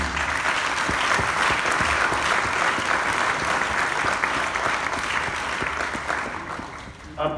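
An audience at a University of Kinshasa medical faculty event applauds a scientific team, a dense sustained round of clapping from a large crowd that tapers off near the end.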